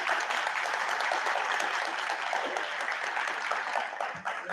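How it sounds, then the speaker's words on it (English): An audience at a school board meeting gives a round of applause for a student string quartet, a steady, moderately distant wash of clapping that holds evenly throughout. "We can give them a round of applause."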